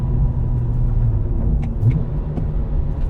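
BMW N52 inline-six in a 328i E90 sedan with an upgraded exhaust, a steady close rumbling drone with a slight swell near the end, sounding alone with no voices.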